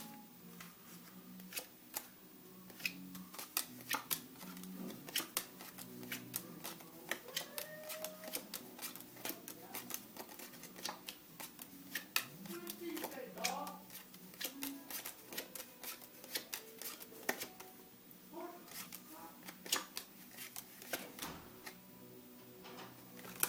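Playing cards dealt one after another during a card trick, a steady run of soft, quick snaps and flicks repeating throughout, fairly faint and close, with no talking.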